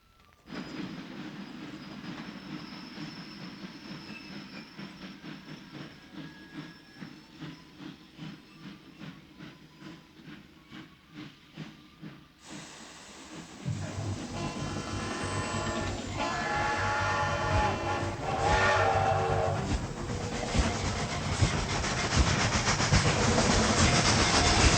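A steam train pulling into a station in the early film L'Arrivée du Train: rhythmic clickety-clack of wheels over rail joints, swelling into a loud, continuous hiss of steam and rumble as it draws near.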